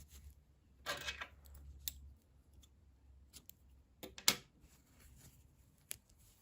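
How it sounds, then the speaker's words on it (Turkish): Scissors cutting crochet yarn while making baby shoes, with a few short, crisp snips spread across a quiet background. "İpliği kesiyorum."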